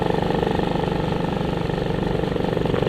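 A Honda C90 small-capacity motorcycle engine running steadily on back roads, a loud, close, even single-cylinder chug with a constant rapid pulse and no voices.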